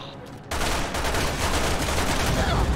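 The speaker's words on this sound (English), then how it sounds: "He's not shooting at me. Oh, now it is." Sustained, dense gunfire in the video game Resident Evil 6 breaks in abruptly after a short quiet moment and keeps going loudly to the end.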